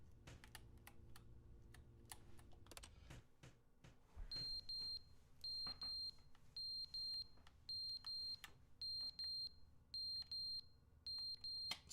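Computer keys clatter at first, then a smoke detector in The Stanley Parable sends out regular paired high beeps, loud and steady, repeating about every second with no talking.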